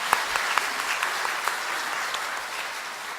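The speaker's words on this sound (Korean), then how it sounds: "우리 목사님께 한 박수 보내주십시오." A church congregation applauding during a Sunday evening service, steady dense clapping from many people throughout, fairly close and even.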